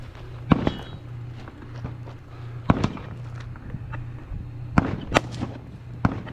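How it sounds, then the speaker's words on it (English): Rifle rounds striking an armored vehicle in a video game, a handful of sharp, irregular cracks and pops over a low steady engine hum, scattered across the moment at moderate loudness. "Handful of rifle hits."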